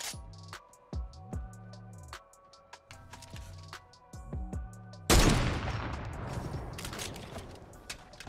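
Fortnite battle royale gunfire: a rapid run of sharp shots in bursts over several seconds, then a loud blast followed by dense crackling, with a little talk and chirpy tones over it.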